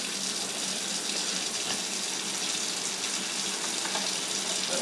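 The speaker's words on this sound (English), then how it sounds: "you want to flick just the water on for me?" A kitchen faucet runs in a steady, unbroken hiss of flowing water, close and fairly loud, with no talk over it.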